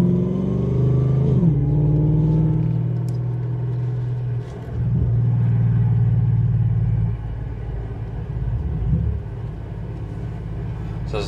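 A supercharged Ford GT Falcon with over 600 hp rumbles out onto the Collie Motorplex track for a sighting lap, its engine droning and revving steadily nearby, dipping and rising as it shifts.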